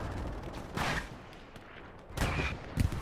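Heavy artillery fire in the video game Hell Let Loose, on the Omaha Beach map: loud booming blasts at irregular intervals, with a final sharp, close impact over a constant roar of battle.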